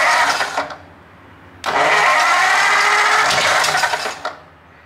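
A Ford V8 engine being started and revving for a short burst, then catching again and running roughly at a low idle before dropping off, close and loud.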